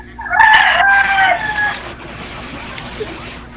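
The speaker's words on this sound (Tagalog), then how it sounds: "Kanina pa ho yan tilaok ng tilaok, oh." A loud native-chicken rooster crows once nearby, the call trailing off into quieter background clucking and ambient noise.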